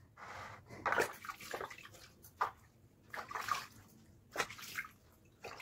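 Water splashes and pours in bursts as a young girl is bathed at home, the sloshes coming in irregular surges with soft breathing between them and no clear speech.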